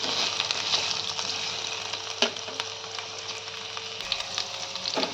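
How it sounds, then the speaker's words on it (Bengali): Boiled young jackfruit and green peas fry in a pan with an even, continuous sizzling hiss and a few faint clicks from stirring. No one speaks. "এঁচোড়গুলো ফ্রাই হচ্ছে, সাথে মটরশুঁটিগুলো ফ্রাই করতে দিলাম"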